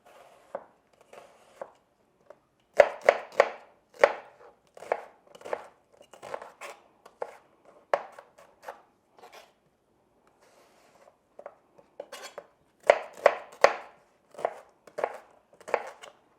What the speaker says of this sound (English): I'm using a red onion. I'll dice that also.